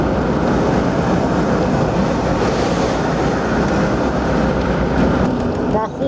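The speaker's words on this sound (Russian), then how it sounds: "мы тут догоняем поезд." A steady, loud rumbling roar of a passing freight train carrying crushed stone for track ballast on the Ofoten Line in Norway fills the whole stretch, broad and continuous with little change.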